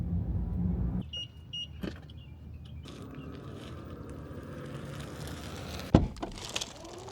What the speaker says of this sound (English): We're gonna mash the brake, mash the gas, and away we go.